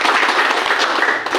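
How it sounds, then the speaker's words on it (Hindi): An audience at a seminar applauds in a dense, steady patter of many hands clapping together, with no talking over it. "स्टार ड्राइवर मिस्टर रासलाल मंडल सर के लिए एक बार जोरदार ताली"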